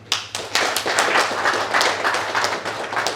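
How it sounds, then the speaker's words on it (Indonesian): Dense burst of audience clapping at a party officials' inauguration ceremony, loud and close, filling the whole moment with rapid overlapping claps. "Beri tepuk tangan semuanya"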